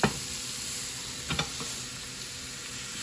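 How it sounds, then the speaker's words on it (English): A pot roast sears in a roasting pan with a steady, moderate sizzle after being flipped. A couple of soft knocks or scrapes land early on, and nobody speaks. "And now I'm gonna flip this baby right on over"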